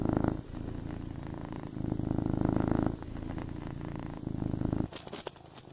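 A cat purring close up, a low rumbling purr rising and falling with each breath, ending in a brief shuffle.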